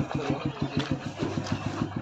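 A motorcycle engine idles nearby with a steady, rapid chugging pulse that stays loud and even throughout, and voices murmur faintly beneath it.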